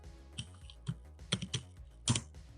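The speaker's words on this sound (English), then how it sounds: "And then you have to type in your wallet password" A wallet password is typed on a computer keyboard: a handful of soft key clicks in small irregular clusters, close and quiet, with short pauses between bursts.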